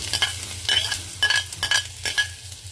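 Garlic sautéing with onion in a pan for ginataang langka, a crackling sizzle broken by repeated scraping stirs in an uneven rhythm, close and moderately loud with no voices.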